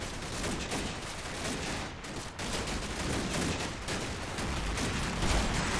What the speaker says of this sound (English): they're really putting some heavy fire on here